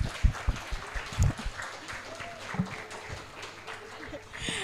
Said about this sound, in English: I think we deserve one round of applause for all of us